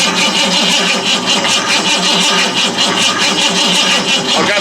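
A 1955 Ford Mainline ute engine on a weak battery cranks over loudly with a fast, even rhythmic churn through the whole short stretch, close up with no talk over it.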